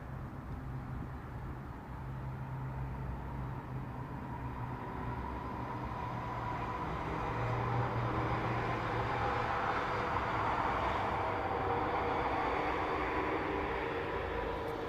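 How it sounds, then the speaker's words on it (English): A train rumbles past at a steady roar, a low continuous drone that swells slightly toward the middle and stays loud throughout, no voices. "Train's in a hurry."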